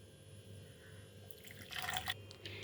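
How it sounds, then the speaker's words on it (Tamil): Hibiscus tea pours through a filter into a glass in a brief trickle that rises to a fuller splashing pour, then tapers off, fairly faint against a quiet background hum. "கிளாஸில் ஃபில்டர் பண்ணிக்கலாம்."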